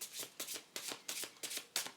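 Tarot cards, Wisdom of the Hidden Realms deck, shuffled in quiet, rhythmic riffling bursts about every third of a second, soft and close with no talking.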